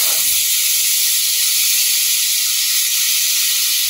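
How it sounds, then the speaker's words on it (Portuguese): Two chopped tomatoes, skins and seeds included, hit a hot pot for a one-pot creamy pasta and sizzle with a loud, steady close hiss that holds throughout without talk. "Agora vou estar acrescentando aqui dois tomates picadinhos."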